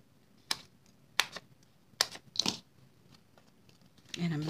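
Several crisp snips of scissors cutting apart adhesive dimensionals, spaced about a second apart, close and fairly quiet, followed by a brief rustle.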